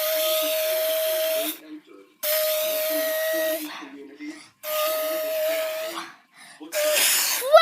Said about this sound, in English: We're going to see how the Saudi vacuum cleaner does.